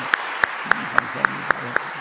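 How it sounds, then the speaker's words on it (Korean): Clapping from an audience at a church teachers' seminar, in a steady, evenly spaced rhythm of about eight sharp claps that stay even in loudness, over a low background murmur. "박수 한번 할까요?"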